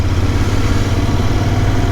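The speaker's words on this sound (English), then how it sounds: "Good thing I decided to get this motorcycle" A Royal Enfield Interceptor 650 motorcycle engine runs with a continuous, even low throb, close and loud, with no speech.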